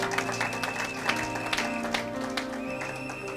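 A church congregation claps together at a sermon, a steady patter of applause layered over sustained music, with sharper claps standing out.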